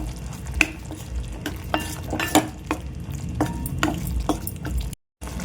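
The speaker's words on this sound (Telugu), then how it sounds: "చక్కగా ఉడుకుతుంది చూడండి టమాటా." Tomatoes with turmeric cook in a pan for a tomato chutney with peanuts, a steady sizzle broken by scrapes of a stirring utensil against the metal.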